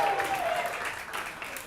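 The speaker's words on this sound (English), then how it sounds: "Clap it up if you heard their jokes." A comedy club audience claps and cheers in a steady wash of applause, with crowd noise under it, heard from within the room.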